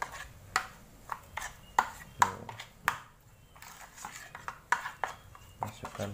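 Fish-bait pellets being poured into a bowl and mixed, heard as a run of light clinks and scrapes against the bowl at an irregular pace, close but quiet, with faint voices in the background.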